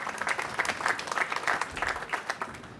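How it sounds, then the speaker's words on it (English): An audience claps steadily for firefighters and construction workers at a public event about rebuilding Louisville's Whiskey Row after a fire, a dense, even patter of applause lasting a few seconds without a voice over it. "how about another round of applause for our firefighters and our construction workers here?"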